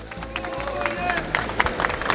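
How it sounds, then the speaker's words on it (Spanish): A Comic Con crowd applauds at a live show, with scattered clapping and crowd noise building over a couple of seconds while voices talk through it. "¡El aplauso al Uni, cabros!"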